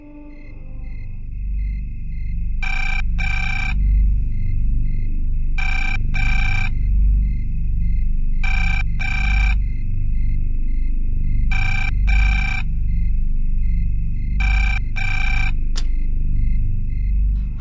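A telephone rings in five evenly spaced double bursts over a low background rumble, clear and steady, with no one speaking.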